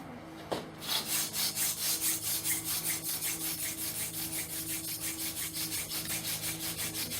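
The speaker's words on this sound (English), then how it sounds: "this is my first ever sneezeweed hand drill" Rapid, steady back-and-forth rubbing of wood on wood, a sneezeweed hand drill spinning for friction fire in even rhythmic strokes, close and continuous with no talking.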